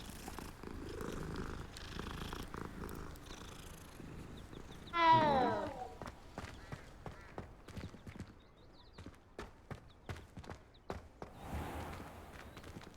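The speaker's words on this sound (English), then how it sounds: "This place has a lot of cats to pet." Soft purring from cats in Hogwarts Legacy, a quiet rhythmic rumble under scattered footstep-like taps and a brief meow near the middle, faint overall with no talking.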